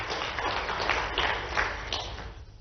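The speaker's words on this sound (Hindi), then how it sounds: "उनका ताली बजा करके स्मरण करें।" An audience at a public gathering claps, a dense, steady patter of many hands that fades slightly toward the end.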